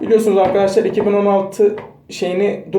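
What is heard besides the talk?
No distinct noise like a dog, phone or traffic.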